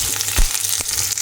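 Curry leaves dropped into garlic frying in hot oil for a mushroom and potato curry, giving a steady bright sizzle with a brief louder crackling burst as the leaves hit the pan.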